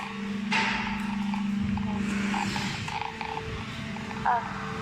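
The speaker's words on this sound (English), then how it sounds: "This is our vacuum machine, and they can make many lid covers." Packaging factory vacuum forming machine running: a steady mechanical hum with creaks, light knocks and a sharper clank near the end, with faint voices in the background.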